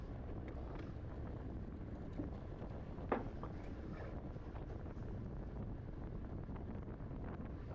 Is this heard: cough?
no